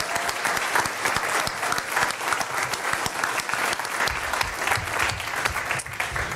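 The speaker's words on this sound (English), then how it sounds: "Let's give our staff a round of applause." Steady, dense applause from a school governing board meeting audience honoring district staff during Staff Appreciation Week, loud and continuous throughout with a fuller rumble toward the end.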